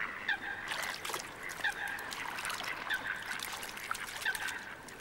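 Coots give repeated short honking calls from the water, moderately near and overlapping in an uneven rhythm against a trickling background, with no voices.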